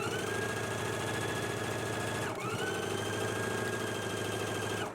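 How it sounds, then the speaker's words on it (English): A sewing machine stitching steadily down the center of stretched elastic, a loud close continuous mechanical whirr with a rapid needle rhythm and a brief pause midway. "Let's go ahead and stitch it now."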